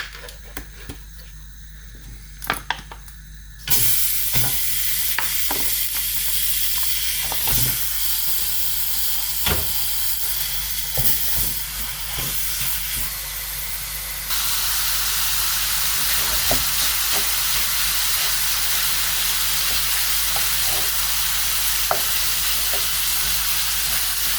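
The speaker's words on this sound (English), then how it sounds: "When you're frying like this," Loud, continuous sizzling and crackling of meat frying in a hot pan for chili con carne, with scattered pops throughout and no talking.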